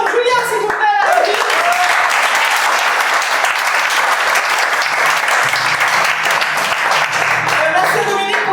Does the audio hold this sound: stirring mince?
no